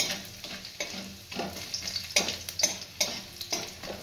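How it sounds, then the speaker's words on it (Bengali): Chopped garlic frying in oil makes a close, steady sizzle, with repeated stirring scrapes in a loose rhythm across the whole stretch. "রসুন কুচিগুলো ভেজে নিলাম।"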